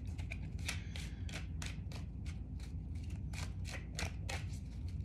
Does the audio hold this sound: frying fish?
no